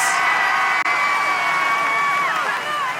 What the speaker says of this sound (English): She hears the crowd chanting her name.